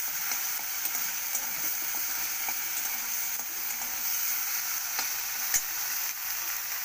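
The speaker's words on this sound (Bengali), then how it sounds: "ধনে পাতা তেল দিয়ে একটুখানি ভাজা ভাজা করে নাড়িয়ে নেব" Coriander leaves frying in hot oil, a steady bright sizzle with soft intermittent taps and scrapes of stirring, moderately close and without speech.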